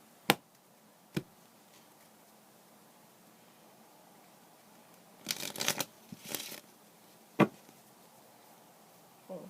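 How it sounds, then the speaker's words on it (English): Playing cards being handled and shuffled during a card trick: a few sharp isolated snaps, then a short burst of riffling and a final crisp snap, close-up in a quiet room. "Shuffles"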